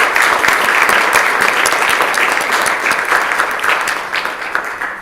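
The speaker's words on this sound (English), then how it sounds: "Please join me in applauding her on her birthday." Dense, loud applause fills a state legislative assembly chamber during a floor session, steady clapping from many members that tapers slightly over a few seconds.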